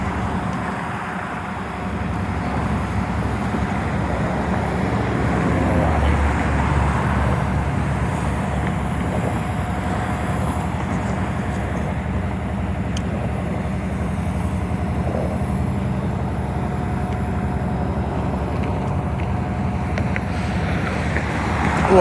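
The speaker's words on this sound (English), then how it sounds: "hear the engines of the locomotive idling" Union Pacific diesel locomotive UP 8860 idling at the head of an outbound manifest train, a steady low rumble with constant broadband engine noise holding evenly throughout, close and fairly loud.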